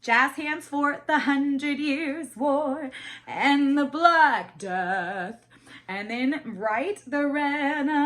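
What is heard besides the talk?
No everyday noises stand out.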